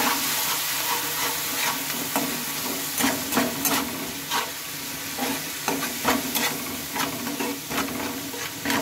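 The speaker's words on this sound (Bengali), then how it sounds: "এবার অল্প একটু জল দিয়ে এটাকে আমি কষিয়ে নেব।" Coriander powder and spice paste with a splash of water sautéing in a pan, a steady close sizzle broken by repeated scraping stir strokes, with no talk.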